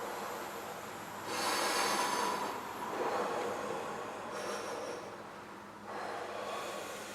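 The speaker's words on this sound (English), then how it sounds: "Deep breaths." Deep, slow breaths during a pranayama breathing exercise, with two or three long airy inhales and exhales swelling and fading, fairly close and steady, without any talking.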